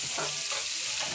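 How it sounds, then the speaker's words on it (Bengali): Onion frying in a pan with a steady broadband sizzle, punctuated by a few short scraping stirs of the spoon, close and continuous over the whole moment. "পেঁয়াজটা দিয়ে পেঁয়াজটা একটু ভাজবো, একটু নেড়ে নিচ্ছি পেঁয়াজটা ভালো করে।"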